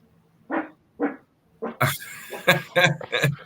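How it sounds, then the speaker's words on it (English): A dog barks near a door indoors, several sharp separate barks at first and then a quicker cluster of louder barks, with nothing else heard. "I said the dog was just barking."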